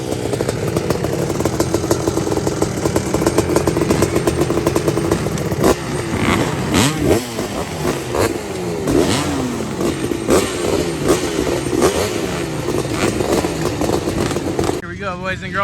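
A 1993 Honda CR250R two-stroke dirt bike, geared with a 51-tooth rear sprocket, rides and revs close by. A loud, raspy engine rises and falls in pitch through repeated throttle blips and gear changes, and voices talk over it.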